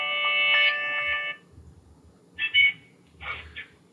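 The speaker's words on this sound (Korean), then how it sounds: "전화가 왔습니다." A telephone rings for an incoming call: a bright electronic ringtone trill at first, then two shorter bursts after a pause, close and clear with no talk.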